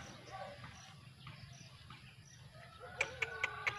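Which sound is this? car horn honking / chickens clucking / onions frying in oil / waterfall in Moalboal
chickens clucking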